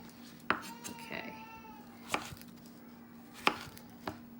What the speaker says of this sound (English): And you want to cut these in like 1-inch cubes.